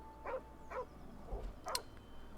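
Several short, sharp dog barks in Baldur's Gate III, spaced irregularly across a couple of seconds at moderate level, close by, with no talk.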